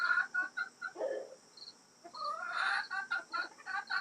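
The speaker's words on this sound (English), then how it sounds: "My chickens are over here visiting." Backyard chickens clucking close by, with short repeated calls coming in bursts and one longer drawn-out call partway through, set against a faint insect buzz.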